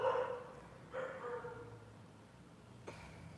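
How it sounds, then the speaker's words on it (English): Dogs bark in the distance, a few separate faint barks spaced out over a few seconds in an otherwise quiet indoor room. "If you can hear my dogs barking,"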